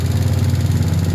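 A motorcycle engine runs in a short, loud, close burst of steady low idling rumble with an even pulsing throb.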